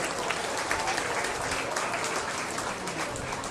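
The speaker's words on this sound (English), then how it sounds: "give a round of applause to our first class of intermediate" Crowd applause for the first intermediate class at a youth beef showmanship contest, a steady wash of many hands clapping at moderate volume, sustained throughout without pause.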